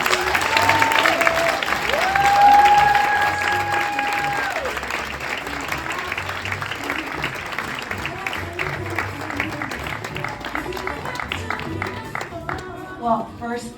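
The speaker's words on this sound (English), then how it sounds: "Please, let's give her a round of applause." An audience at a gala applauds Tamron Hall as she comes to the stage to accept an award. The clapping is moderate and continuous, with some cheering and background music, and it gradually thins out.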